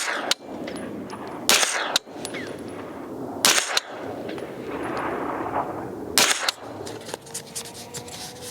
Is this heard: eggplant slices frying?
no